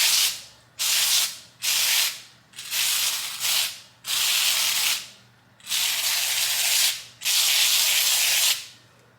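Close, loud hissing bursts of a spray paint can in a garage, painting a sign, about eight sprays of varying length separated by short pauses, with no talking.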